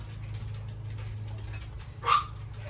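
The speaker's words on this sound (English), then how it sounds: "I have the dogs that sometimes get on my nerves, but they're all outside" One short dog bark from outdoors, faint and distant, rising once over a steady low background hum.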